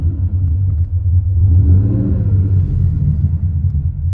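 Porsche engine with a suspected bad O2 sensor, revving up and settling back, a loud, close, continuous low rumble that swells in the middle and eases off, with no talking.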